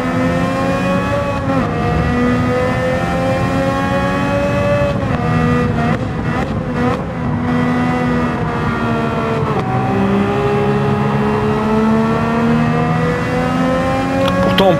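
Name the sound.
race car engines in Gran Turismo 7 video game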